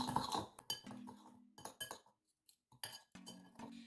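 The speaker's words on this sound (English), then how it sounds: "And then you just stir around." A spoon stirs a homemade edible lip scrub in a glass, giving close, quiet scraping and bright clinks against the glass in short irregular bursts separated by brief pauses.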